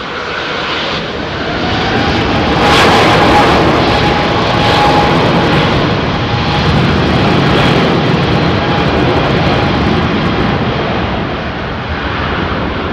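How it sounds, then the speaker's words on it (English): Loud, steady roar of Airbus A350 XWB jet engines arriving in wind at London Heathrow, a broad rushing drone that swells slightly and holds for the whole stretch, with a thin whine riding on top. "Look at those beautiful big XWBs."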